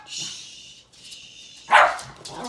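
Dogs yip and bark in short bursts while playing, with scuffling and a sharp louder bark near the end.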